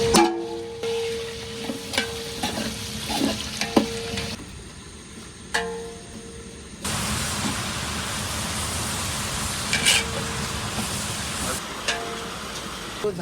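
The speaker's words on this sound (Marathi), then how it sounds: "कांदा उकळला जातो ते लवकर शिजतं" Onions for a mutton dish simmer in a covered pot with a steady bubbling hiss, broken by a lid clink and a few knocks, and faint voices in the background.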